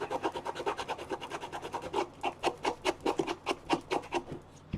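Steady back-and-forth rasping strokes, close and fairly quiet, repeating in a quick even rhythm like sandpaper rubbing across a surface.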